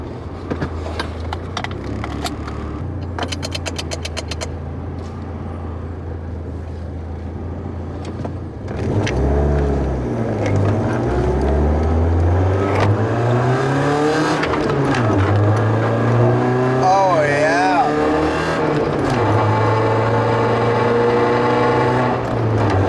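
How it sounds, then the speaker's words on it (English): A BMW E30 engine with a severe exhaust leak idles roughly, then revs hard and loud with a raspy, popping exhaust note rising and falling through repeated pulls. "We have an extreme exhaust leak. Crazy bad exhaust leak."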